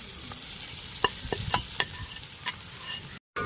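Spice powders being stirred into sautéed onions, tomatoes and chillies for a fish head curry cooked outdoors: a steady sizzle broken by several sharp spoon scrapes against the pan, with a brief dropout at the end.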